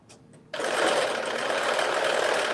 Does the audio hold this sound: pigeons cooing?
no